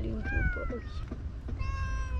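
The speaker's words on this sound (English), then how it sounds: "Oh, black kitty also wants attention." A black cat meows for attention, several short close meows in quick succession, while a person talks softly alongside.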